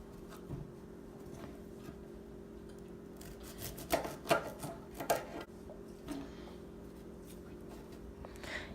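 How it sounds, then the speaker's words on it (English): A knife cuts fresh broccoli on a board with soft, scattered scraping and chopping strokes, a small cluster of sharper cuts in the middle, quiet and close. "So I am going to cut the broccoli."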